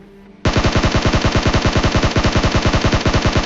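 Rapid automatic gunfire in a battle royale video game: a long, loud, steady burst of evenly spaced shots that starts abruptly after a brief quiet moment and runs without pause to the end.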